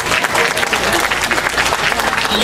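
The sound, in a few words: audience applause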